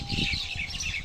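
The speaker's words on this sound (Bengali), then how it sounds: "এই পাখিগুলোর কিচিরমিচির" A brief burst of high, twittering bird chirps over a low background rumble, fairly close and continuous.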